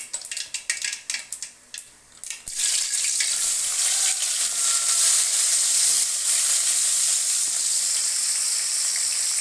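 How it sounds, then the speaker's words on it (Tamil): Onions dropped into hot oil in a pan, a few clinks of utensils followed by a loud, steady sizzle that fills the rest, no voices. "வெங்காயம் போட்டுக்கலாம் போடுங்க போடுங்க பொறிச்சிருச்சு"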